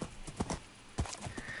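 Minecraft horse hooves clip-clop in a short, uneven run of several hollow thuds, close and moderately loud.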